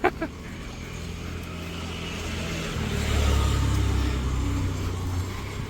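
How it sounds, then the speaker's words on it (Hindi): Night road traffic near a beach in Goa: a car engine hums nearby, then swells louder as a vehicle passes or accelerates midway, over a steady background rumble. "आप देखो रात को 12:30 बजे यहाँ पे कितना ट्रैफिक आ रहा है"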